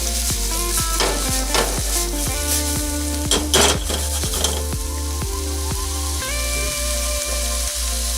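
Smoked chili flakes with thyme and rosemary sweat in a hot pan for chicken liver pâté, giving a steady close sizzle broken by sharp stirring clicks and scrapes, with a tonal musical backing underneath and no talking.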